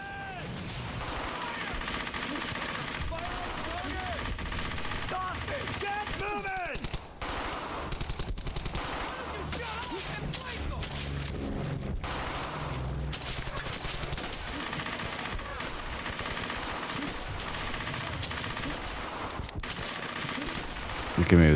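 Rapid machine-gun bursts and rifle shots crackle almost without pause in the World War II shooter Brothers in Arms: Hell's Highway, dense and loud throughout, with shouted voices sometimes cutting through the firefight.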